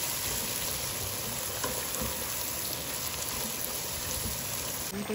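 Masala frying in a pan before chicken goes in, a dense, continuous sizzle and crackle holding at an even level from start to finish.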